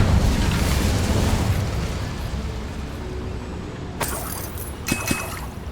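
A fire spell burst in a wizarding video game, a loud roaring whoosh fading over several seconds, followed by a couple of sharp crackling pops and bursts near the end.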